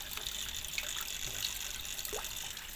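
A small waterfall trickles into a homemade guppy pond, giving a steady, fairly faint rush of running water with a few soft drips and no one talking.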